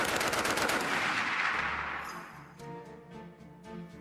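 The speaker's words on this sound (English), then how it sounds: "especially with something like this, it has a booming report, and you're throwing a lot of lead out." A Browning Automatic Rifle fires a dense, booming burst of fully automatic shots that roars for about two seconds, then gives way to echoing reports and a few scattered later shots.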